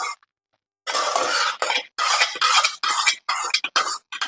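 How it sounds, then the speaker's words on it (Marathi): Hot milk being stirred into lapsi kheer in a pot, heard as a run of close scraping, sloshing bursts separated by short pauses, with no talk. "आणि आता छान असं मिक्स करून घेऊया"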